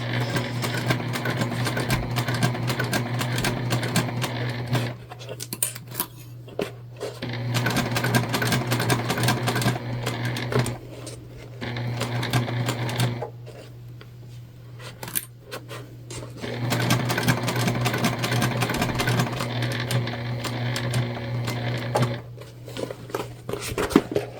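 A sewing machine stitches a large fabric bag in bursts of rapid, even needle clatter with a constant motor hum, pausing briefly between runs.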